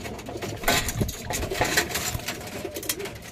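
Pigeons coo inside a loft with soft, irregular calls close by, along with light fluttering and shuffling movements. No voices are heard.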